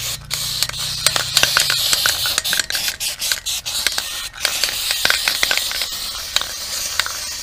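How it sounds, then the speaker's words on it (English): An aerosol can sprays undercoating beneath a BMW E46 330xi, giving repeated short, sharp hissing bursts of uneven length, heard close up with small clicks and taps between the sprays. "I'm gonna spray that to have everything covered and be ready for the winter"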